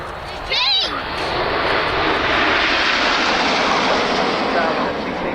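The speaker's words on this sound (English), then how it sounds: "Coming in from the left with some red and white smoke, this is Typhoon." A Eurofighter Typhoon fast jet trailing red and white smoke flies past at an RAF airshow at Cosford, its engine roar building quickly to a loud, sustained rush that dominates, with a commentator's voice heard briefly as it arrives.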